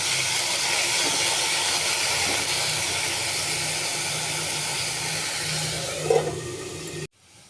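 Uttapam batter frying in a pan gives a steady, loud hiss and steam-like sizzle that holds evenly for about seven seconds, swells briefly near the end, then cuts off abruptly.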